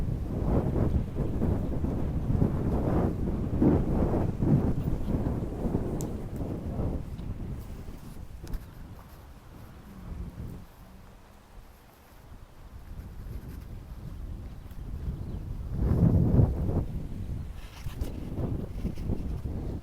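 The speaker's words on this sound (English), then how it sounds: "I'm in a very blustery area for a moment here. So there may be a little noise." Gusty wind buffets an outdoor microphone in a blustery spot, producing a continuous low rumbling roar that swells and eases, loud and close throughout with no voice over it.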